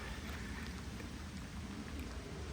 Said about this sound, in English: now the rain is kicking back down again